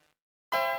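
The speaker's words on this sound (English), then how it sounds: "That's the sound of his cane when he whips his cane." A cane-whip sound effect from the Sega CD game Lunar 2: Eternal Blue: after a silent pause comes a single bright, ringing metallic clang that holds steady and loud to the end.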